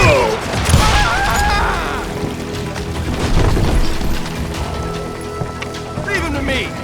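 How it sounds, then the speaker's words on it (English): Gunfire and crashing impacts ring out in a street shootout in Call of Juarez Gunslinger, loud bursts and booms clustered near the start and middle, with a voice shouting over the chaos. "They're shooting in the street!"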